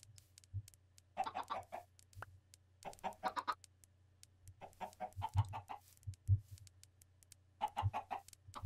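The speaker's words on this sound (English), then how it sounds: "All these goddamn chickens." Minecraft chickens cluck in short bursts of soft, repeated clucks spread across several seconds, fairly quiet and alone over a faint low game hum.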